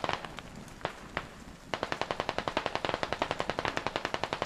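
Gunfire in the video game Squad, a few scattered single shots and then a long fast burst of automatic fire with evenly spaced sharp cracks, mid-distance, no talking.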